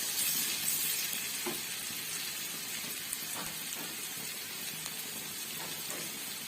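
Sliced bamboo shoot frying in a pan with a little turmeric and salt, stirred briefly: a constant bright sizzle close by, with faint scraping taps of the spatula now and then. No voices.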